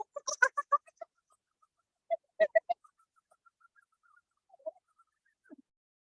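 A human voice imitates a kookaburra's laughing call with a few clustered bursts of rising, cackling hoots, followed by quieter scattered notes and pauses, close to the microphone.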